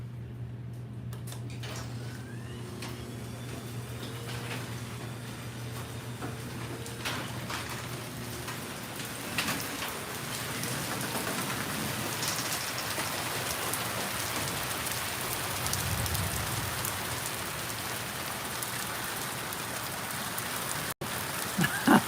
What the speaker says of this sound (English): that rain is coming down